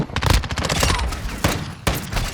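Rapid SMG fire in Call of Duty Modern Warfare II, dense continuous bursts of close, loud shots with brief breaks between strings.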